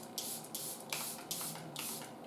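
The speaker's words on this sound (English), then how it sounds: "I'm gonna spray again with my Charlotte Tilbury." Charlotte Tilbury setting spray hisses out in five short, crisp bursts from a pump mister at close range, each spritz evenly spaced with quiet pauses between, and no talking.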